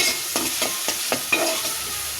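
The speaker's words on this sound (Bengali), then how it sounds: "পেঁয়াজ কুচি দিয়ে দিলাম, যতটুকু লাগবে প্রয়োজন ততটুকু নিয়ে নিলাম। এখন নাড়াচাড়া করে নেব।" Chopped onions in regular oil are stirred in a frying pan, giving a rhythmic series of spoon scrapes over a constant close sizzle.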